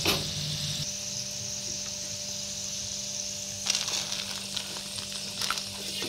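Steady, hissing sizzle of chana dal deep frying in hot oil, close and continuous, with a few brief clinks partway through.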